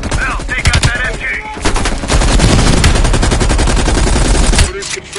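Sustained machine gun fire in the Call of Duty Black Ops Cold War campaign, scattered shots at first, then a long loud continuous burst of rapid automatic fire with explosions and battle noise mixed in.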